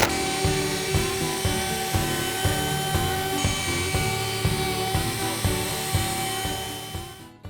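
A router cuts across a wooden side of a gantry, flattening it in a continuous high whine with regular rhythmic pulses from each pass, close and steady.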